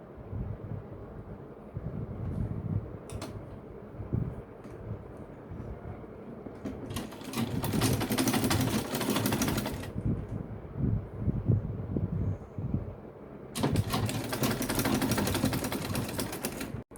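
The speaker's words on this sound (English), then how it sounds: "We take it to the sewing machine and we are going to sew it like this to turn out this slit outside." Sewing machine stitching a slit in a free-size shirt, two loud rapid bursts of needle chatter lasting a few seconds each, separated by quieter handling noise, close and without talk.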